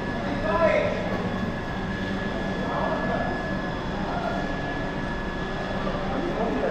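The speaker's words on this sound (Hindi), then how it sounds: "छपरा दुर्ग Sarnath express Varanasi city railway station पर" A Chhapra–Durg Sarnath Express stands at a platform of Varanasi City railway station under renovation, giving a steady loud station rumble with a faint electrical whine, and voices murmur throughout.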